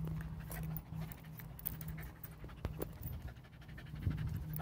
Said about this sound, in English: Look at this crazy dog.